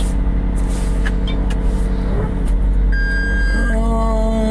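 A Lamborghini sports car drives slowly through a shop toward an alignment rack, its engine giving a close, steady low rumble with humming tones that shift slightly near the end.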